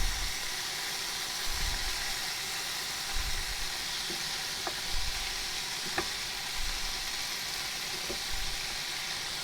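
Lamb casserole cooking in a pan at a camp stove, with a steady soft sizzle and hiss running throughout and a few faint clicks and scrapes of stirring, quiet and close, with no voices.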